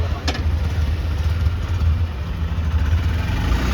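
A new Honda SP Shine 125cc motorcycle engine idles close by with a steady low thrum and slight throttle wavering throughout.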